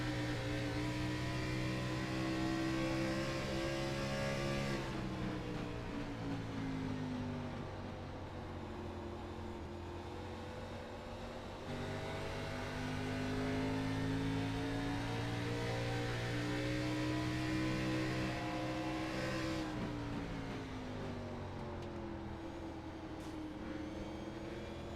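Race car engine heard from inside the car during a ride-along, a loud, continuous roar that rises and falls through the gear changes. No voices are heard over it.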